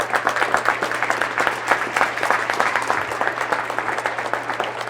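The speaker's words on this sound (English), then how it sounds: "So a round of applause for our students," Crowd applause for students at a DARE graduation ceremony at Mars Centennial School, steady dense clapping throughout, moderately loud and close, with a low constant hum underneath.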